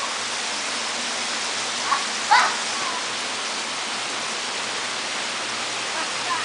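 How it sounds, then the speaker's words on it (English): Steady rain pours down outdoors, a dense even hiss that fills the whole stretch, with a couple of faint brief voices or squeals rising over it. "It's raining."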